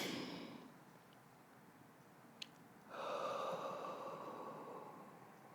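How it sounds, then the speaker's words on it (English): A slow, deep breath drawn in and let out during a guided pause, heard up close and alone as a soft, broad airy hiss that swells and fades without any talking. "take another breath"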